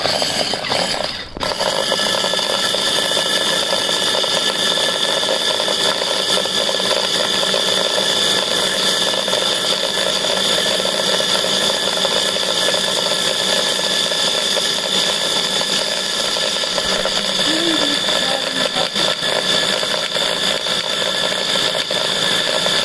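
A triboelectric plastic separator charging a mix of plastic, metal and nylon pieces, giving a steady mechanical whir and rattle that runs continuously and fairly loud throughout, with a brief knock near the start.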